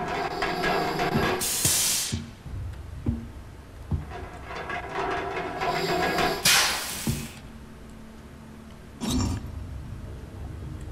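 Loud bursts of steam hissing from a pipe on a ship's deck in the horror game Monstrum, three sharp blasts of a few seconds each separated by quieter rumbling ambience and clanks.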